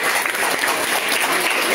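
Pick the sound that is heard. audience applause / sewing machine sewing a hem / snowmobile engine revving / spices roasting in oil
audience applause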